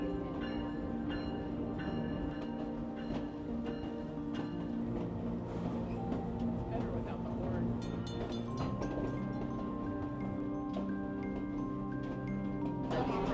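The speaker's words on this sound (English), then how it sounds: "Leaving the wine train." Steady, continuous rumble from inside the Napa Valley Wine Train, with ringing bell-like tones and clanks layered over the constant rolling noise.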